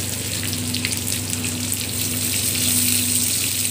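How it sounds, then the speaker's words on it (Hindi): Finely chopped green chillies and onions fry in a pan for a Rajasthani besan gatte curry, a steady close hiss of sizzling oil with a low continuous hum beneath and no talk. "ये बारीक कटी हुई हरी मिर्ची, हल्का ब्राउन करने के बाद प्याज बारीक कटे हुए"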